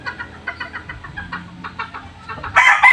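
A Bluefish McLean gamecock rooster clucks in a quick run of short, repeated calls, close and fairly loud, building to a louder, harsher squawk at the end.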